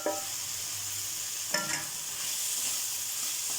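Spices fry in a pan for aubergine chicken with a constant bright sizzle, while a spoon scrapes and stirs in a few brief strokes, near and steady with no voices.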